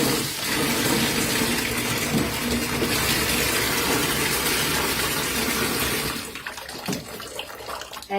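Water gushes loudly and steadily from a tap into a tub, then cuts off near the end, leaving faint drips and splashes.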